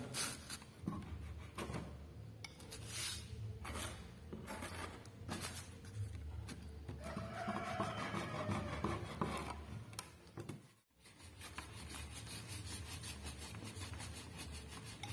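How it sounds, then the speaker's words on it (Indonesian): A clothes iron is pushed and rubbed continuously over a PCB to transfer toner, making repeated scraping, rasping strokes in a steady back-and-forth rhythm with one brief pause. "Kita gosok terus sampai sudah agak kelihatan hitam rangkainya di sini ya."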